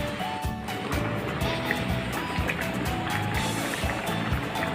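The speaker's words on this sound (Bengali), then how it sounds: "এবার একটু জল দিয়ে দেবো এটার মধ্যে" A small amount of water is poured into a vegetarian curry simmering in a cooking pan, making a continuous liquid splash and sizzle at close range with a faint tonal background underneath.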